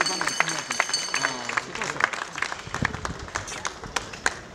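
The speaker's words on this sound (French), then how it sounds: "Est-ce que vous pouvez applaudir très très fort" Mourners at a Congolese artist's funeral clap in scattered, uneven bursts while someone talks, the applause fairly faint under the voice and crowd murmur.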